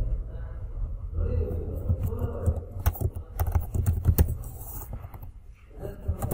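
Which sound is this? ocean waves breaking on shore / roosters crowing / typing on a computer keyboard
typing on a computer keyboard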